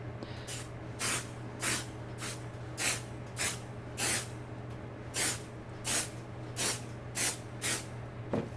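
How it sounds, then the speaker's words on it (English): A spray bottle fires about a dozen short hissing bursts at a steady rhythm onto a ScanNCut cutting mat, close by, over a low constant hum. "I'll pick mine up so that I can hold my spray bottle upright."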